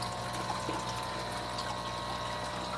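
Pond pump water falling back into a drum reservoir, a steady close splashing and trickling wash with a constant mechanical hum beneath and no talk.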